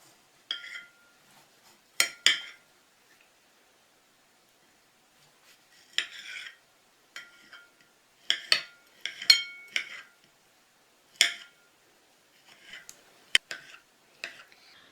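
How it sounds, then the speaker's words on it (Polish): A knife cuts a peeled tomato into thick chunks on a plate, making scattered, clear clicks and taps of the blade against the plate with quiet gaps between strokes. "I tak samo w grubą kostkę pokroję pomidora. Pokroję go na talerzu, żeby nie tracić soku."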